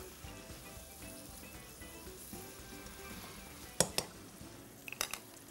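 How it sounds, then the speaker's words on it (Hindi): Fried potatoes stirred into masala in a pan, a quiet steady sizzle with a few sharp clinks of a spoon against the pan toward the end. "ये फ्राई किए हुए आलू हमने शामिल कर देने हैं यहाँ, और इसको हमने मिक्स करना है इस मसाले के साथ"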